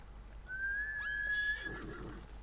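A horse in the video game Ghost of Tsushima lets out one long, loud whinny that rises and holds steady before trailing off, followed by faint hoof-like shuffling. No one speaks.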